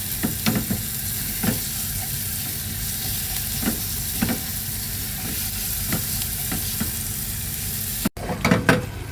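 Onions and garlic paste fry in a pan, giving a loud, steady sizzle broken by regular spoon strokes as they are stirred, with a brief clatter near the end.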